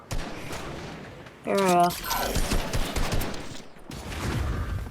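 A shotgun fires in a first-person shooter, one sharp loud blast followed by a rapid string of shots, with someone talking briefly over it.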